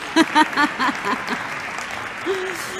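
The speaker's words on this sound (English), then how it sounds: "You can clap, it's fine." Audience at a youth entrepreneurship forum breaks into applause, a soft, sustained wash of clapping in the background while a few short voiced sounds ring out near the start.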